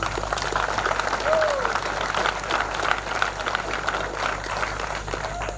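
An audience claps at an outdoor arts and culture festival in Kicukiro, a sustained, moderately loud patter of applause with a crowd murmuring underneath and a brief whistle-like tone.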